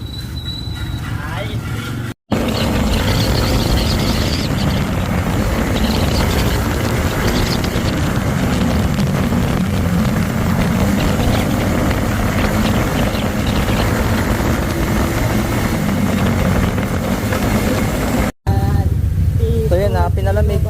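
A motorcycle engine drones steadily during a nighttime break-in ride, a loud continuous rumble with wind noise, cutting out briefly twice.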